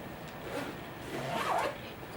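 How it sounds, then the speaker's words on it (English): A go bag being zipped shut, a close, dry ratcheting zip drawn out over a couple of seconds and rising slightly in the middle. "And then you zip everything up."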